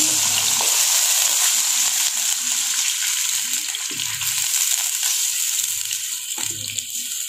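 Chicken frying in a pan as whisked yogurt is stirred in: a loud, steady sizzle with intermittent scraping stir strokes close by and no voices.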